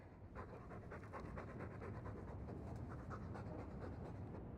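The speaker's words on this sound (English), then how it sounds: "All that noisy dog breath, day in, day out." A dog pants heavily and rhythmically up close in Dragon Age II, with steady quick breaths throughout and a faint rumbling background.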